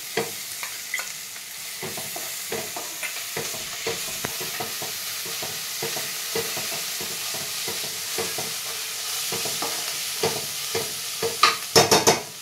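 Ginger garlic paste frying in hot oil with mint leaves as it is stirred for mutton curry, a steady sizzle under repeated scraping stir strokes, growing busier with sharp clatters near the end, no talking.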